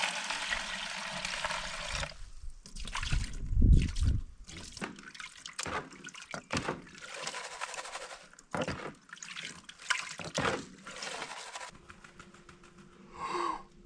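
Gravel swirled in water in a gold pan, close sloshing and trickling with gritty rattles of stones, in uneven bursts and pauses, no voices.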